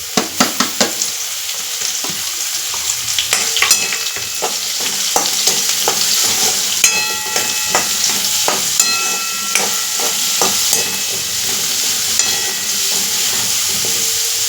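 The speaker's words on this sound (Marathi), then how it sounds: "हे बघा आता हे मशरूम या तेलमध्ये टाकून द्यायचे।" Mushrooms frying in oil in a well-used dark kadai, a loud continuous sizzle broken by repeated sharp clinks and scrapes of a spoon stirring, close and with no talk.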